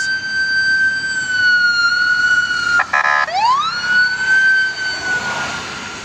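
A police car siren wails loud and near on a highway, its pitch gliding in long sweeps, with a brief burst of rapid yelp warble partway through over steady traffic noise.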